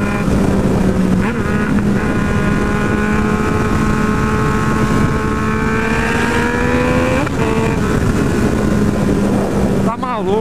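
Yamaha MT-09 motorcycle engine droning steadily while riding at speed, with a strong continuous tone that rises and falls through gear changes, loud and close with wind rush throughout.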